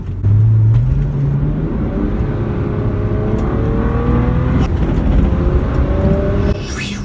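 A BMW 135i engine with an aFe cold air intake rumbles loudly up close, rising in pitch as it accelerates with a breathy intake whoosh, then easing off near the end.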